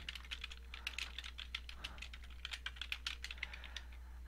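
Computer keyboard typing in a steady stream of quick, light keystrokes while a syllabus title is entered, close and fairly quiet over a low steady hum, with no speech.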